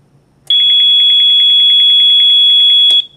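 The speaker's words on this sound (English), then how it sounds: "Also switch that back to dose because of the loud alarm." Loud steady electronic alarm tone from a DSM-500 digital radiation survey meter, sounding continuously for about two and a half seconds with a slight pulsing flutter, then cutting off abruptly.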